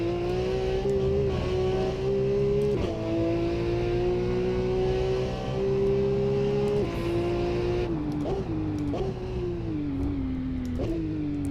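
A Porsche sports car engine revs hard, climbing and bouncing off the rev limiter at around 9,000 RPM, a loud sustained howl with sharp pitch drops between pulls, close and alone without talk.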